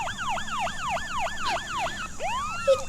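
Police car siren wailing in a steady repeating rise-and-fall cycle at moderate distance, then shifting into a faster, different warble near the end, with no one talking.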